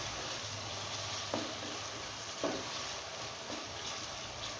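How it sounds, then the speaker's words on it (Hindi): Chopped tomatoes with ginger-garlic paste fry in hot oil for a keema karela dish, giving a steady, dense sizzle with a few soft stirring scrapes, close and unbroken, with no talk. "इसको मैं 1 मिनट तक ऐसे ही फ्राई करूंगी ऑयल में ताकि टमाटर अच्छी तरह से सॉफ्ट हो जाए।"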